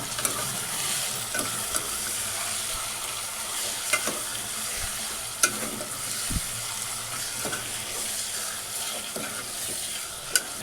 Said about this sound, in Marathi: चिकन चांगलं परतून घेतलं आहे